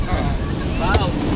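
Large sea waves surge around a small boat, heavy wind buffeting the microphone in a short, rough burst of rushing water and gusts.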